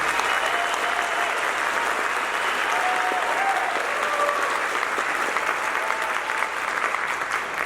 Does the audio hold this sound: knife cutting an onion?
no